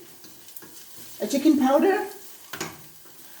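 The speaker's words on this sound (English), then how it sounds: "my onions and celeries are frying there" Onions and celery fry in a pan for a stew, with a close sizzle that swells as the pan is stirred and then fades. A person speaks briefly.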